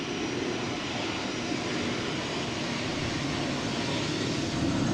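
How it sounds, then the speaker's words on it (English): A KLM Embraer 190 jet takes off at Amsterdam Schiphol, its engines a loud, steady broadband roar that holds unbroken and swells slightly toward the end, with no voices. "of course it is KLM cutting in a line. The Embraer 190 to Trondheim."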